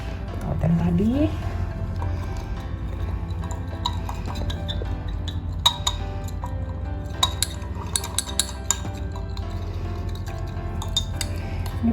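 Homemade toothpaste mixture with glycerin and xanthan gum stirred in a glass container, metal utensil clinking repeatedly against the glass in irregular bursts under a steady low background hum.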